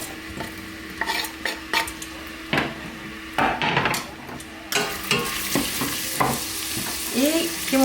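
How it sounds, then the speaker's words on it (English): Onions and peppers hit a pan for a Macedonian rice and vegetable dish, giving a steady close sizzle broken by repeated stirring scrapes and utensil knocks. "We're gonna put the onions, the peppers"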